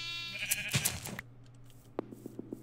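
Sheep in Minecraft bleating in a short wavering cry up close, then quiet with a few soft clicks and taps.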